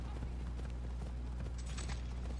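Horse hooves gallop in a PS4 video game, a quick rhythmic clip-clop that runs continuously at moderate loudness under a constant low rumble.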